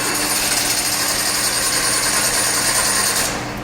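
A car engine is cranked by its starter motor during a starter test, giving a loud, steady, buzzing mechanical whir that runs without pause for about three seconds and then fades slightly at the end.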